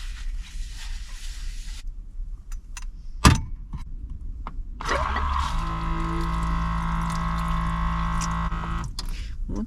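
Water gushing from a hose beside a small kei van, a steady close rush starting after a sharp clack and continuing unbroken to the end.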